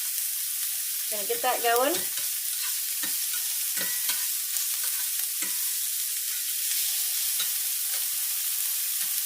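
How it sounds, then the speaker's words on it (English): Onions and hamburger meat frying over high heat in a pan, a steady loud sizzle throughout with a few scraping stirs near the start while a person speaks briefly. "I love the smell of onions and hamburger meat cooking"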